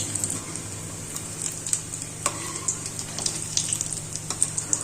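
Methi muthiya balls frying in hot oil, a steady close bubbling sizzle with scattered sharp crackles and pops throughout.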